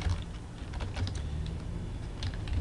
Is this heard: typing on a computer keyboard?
yes